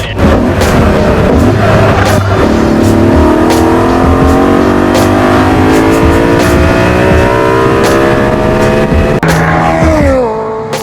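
A BMW E30 M3 fitted with an S65 V8 accelerates hard, its engine climbing steadily through the revs with a loud, close, continuous howl and a gear change near the end.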